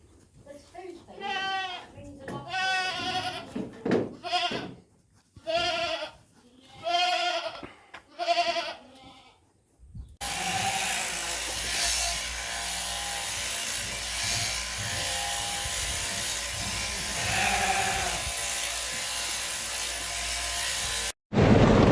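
Sheep bleat in a run of repeated calls, some close and loud, with gaps between them, followed by a long stretch of broadband noise.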